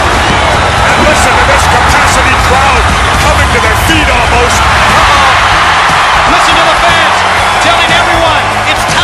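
A capacity crowd at a wrestling arena roars and cheers continuously during a WWE SmackDown vs Raw match between Matt Hardy and The Miz, a loud, dense wall of yelling and whooping throughout.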